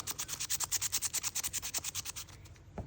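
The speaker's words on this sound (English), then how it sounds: "I feel like a little bit of sandpaper down in it will take care of the issues that we got down there. So we can go ahead and sand that." Sandpaper rubbed by hand inside a Red Stag knife case, a fast run of about twenty rhythmic scratchy strokes, close and loud, easing off near the end.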